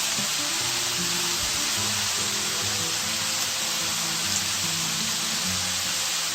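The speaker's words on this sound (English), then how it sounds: "As you can see, it's stewing down" Chorizo and potato stew simmering down in a pot: a dense, steady bubbling hiss with soft popping, continuous and fairly close, with low tonal noise underneath and no talking.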